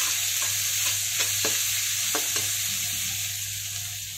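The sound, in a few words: chicken egg fried rice frying on a high gas flame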